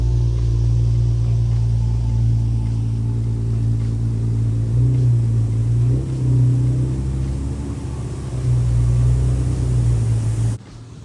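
An Infiniti G37 coupe rumbles steadily nearby with a deep, even engine drone and slight swells in pitch as it pulls away, cutting off abruptly at the end.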